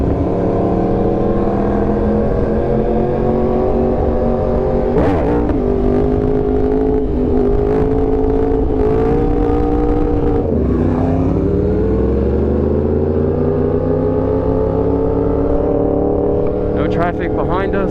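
A Yamaha R1 sport motorcycle engine while riding, a steady droning tone that shifts pitch with throttle changes and a dip near the end, loud and close with wind noise, with people talking over it.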